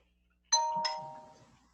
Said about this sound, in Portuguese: Não é a campainha, foi meu celular.